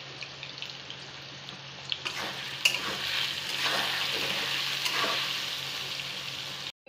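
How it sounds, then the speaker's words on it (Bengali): Potatoes with salt and turmeric frying in hot oil left from frying fish, giving a soft continuous sizzle with a few stirring scrapes, fairly quiet and with no talk. "আলুগুলো ভালো করে ভেজে নেব।"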